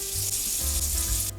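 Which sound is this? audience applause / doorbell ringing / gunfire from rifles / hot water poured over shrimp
hot water poured over shrimp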